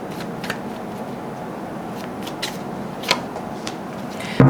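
Tarot cards shuffled by hand in a quiet room, a steady soft riffling texture with a few sharper card snaps and a louder knock at the end, no talking.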